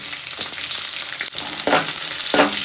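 Onions fry with hot green chillies in oil for masala rice, a loud, close, steady sizzle that swells with stirring and crackles throughout.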